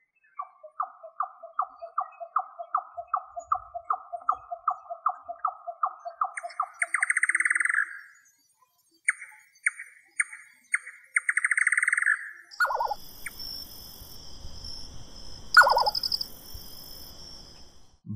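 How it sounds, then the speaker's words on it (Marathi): A series of nightjar calls recorded in the grasslands of Maharashtra: a fast run of evenly repeated notes, then longer churring bursts and short repeated phrases, with a different insect-like trill and sharp calls joining near the end, all fairly close and clear. "तो वेगवेगळ्या नाईटजारचे वेगवेगळे आवाज असतात."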